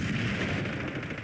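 Dense gunfire from the Call of Duty: Black Ops 6 multiplayer game, a sustained loud burst of rapid shots with no pauses, close and filling the whole moment.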